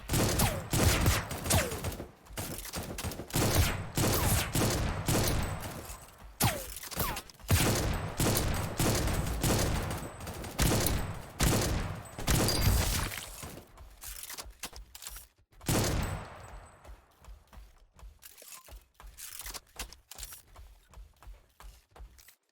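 Pike gun fire in the video game Project Genesis, a long run of rapid, close gunshots and impacts that thin out and fade near the end, with no talk over them.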